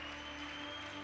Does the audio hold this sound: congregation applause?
yes